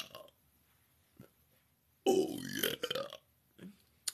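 A single loud, rough burp erupts near the microphone for about a second, framed by soft breathing and faint mouth sounds in an otherwise quiet room.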